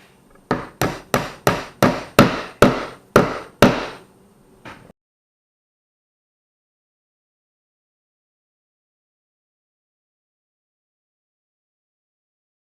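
A hammer strikes a wooden circle jig about nine times in quick, even succession, loud and close, each tap ringing briefly before the sound cuts to silence for the rest.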